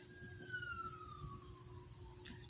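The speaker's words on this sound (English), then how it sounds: "Siren." A single siren tone glides slowly downward, faint and distant against a low background rumble, ending with a brief louder noise.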